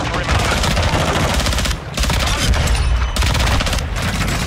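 Loud, dense gunfire in Call of Duty: Modern Warfare 2 on the cramped Shipment map, with rapid overlapping shots and booming blasts, including shotgun fire, coming in heavy bursts with brief gaps.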